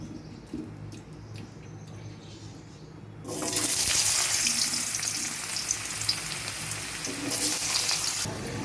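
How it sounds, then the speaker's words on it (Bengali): Potatoes drop into hot oil in a wok, and a quiet kitchen suddenly turns into a loud, dense, crackling hiss that holds steady close by, with no talk. "আলুগুলো ভেজে নেব"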